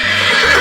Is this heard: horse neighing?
yes